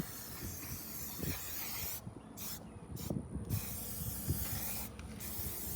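A detailing product sprayed over an off-road rig with a snorkel, in several quick bursts of close hiss, some pauses between them, over a steady low background rumble.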